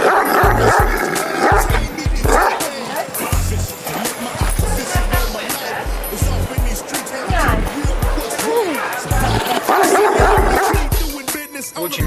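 Dogs at a dog shelter bark and yip repeatedly in loud, overlapping bursts close by, with a noisy background of other barking throughout and a person talking at times.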